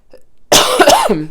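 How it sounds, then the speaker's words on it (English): One sharp, close cough after a moment of near silence, harsh and throaty. "Hold on a second, I have to cough."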